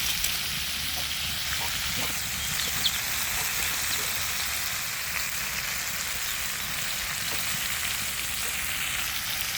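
A pan of quail egg curry sizzles and hisses loudly and steadily for several seconds as broth water goes in, with a crackling, rain-like texture close to the pan.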